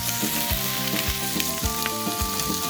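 Tomatoes added to a hot frying pan sizzle loudly and continuously, with a dense crackling hiss and faint stirring knocks underneath.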